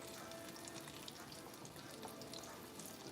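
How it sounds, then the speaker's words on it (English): Food frying in a pan, a soft continuous crackle and sizzle heard close but at low level, with no talking. "So we're going to go ahead and get this frying"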